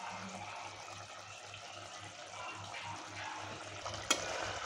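A chicken curry (pulusu) gets stirred in a pot as coriander goes in, soft rhythmic scraping strokes over a low simmering bubble, ending in a sharp metallic clink near the end.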